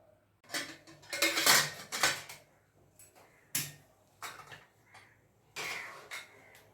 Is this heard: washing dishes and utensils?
yes